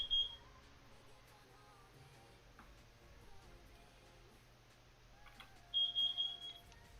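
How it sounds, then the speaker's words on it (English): A carbon monoxide alarm in a bedroom gives short, thin electronic beeps, one brief chirp at the start and a quick run of repeated beeps near the end, faint and distant against a low background hum. "the bedroom carbon monoxide alarm went off"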